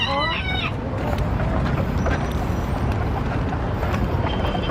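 Chickens clucking in a loose, irregular run while someone walks outdoors, with several short calls up front and scattered fainter clucks over steady background noise.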